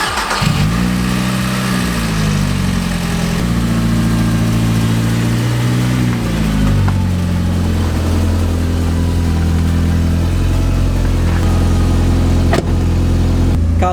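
A cold Seat Ibiza FR car engine idles steadily and loudly up close, its low, wavering drone shifting slightly in pitch over several seconds with no voices.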